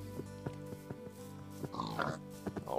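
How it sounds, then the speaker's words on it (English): Minecraft pigs grunting and oinking in a group, several short snorts spaced through the clip over a quiet game background, with a brief voice near the end. "It's not an army, it's pigs."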